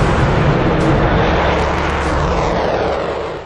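An Avro Vulcan bomber roars overhead in a loud, continuous broadband rumble that fills the air and then eases off slightly at the end.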